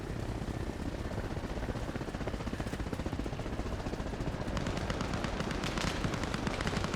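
Distant gunfire from the video game Arma Reforger: a dense, constant rattle of shots blends with a droning engine-like rumble. The firing grows slightly busier toward the end.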